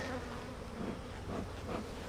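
Honeybees hum around an opened hive over its frames, a steady dense drone of many insects close by with slight swells in intensity, with no voices.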